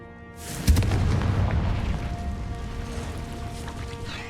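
An Incendio fire spell cast in the video game Hogwarts Legacy, a sudden close blast that swells into a sustained roaring rumble and slowly fades, with no talk.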